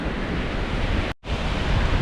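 Steady broadband wash of sea waves on a beach in Rayong, loud and close with wind mixed in, broken by a brief dropout near the middle.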